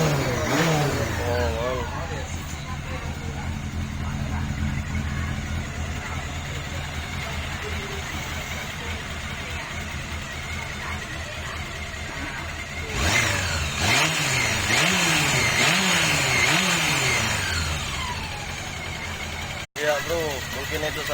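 A 1998 Honda CB400 motorcycle engine runs steadily, then revs up and down in several rising and falling sweeps near the end, recorded close with a brief dropout.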